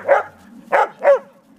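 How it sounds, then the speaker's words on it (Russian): A dog playing with puppies gives three short, sharp barks or yips in quick succession, close by and clear against a quiet background. "Вот первый раз Соболь так вот ведет с щенками, играется"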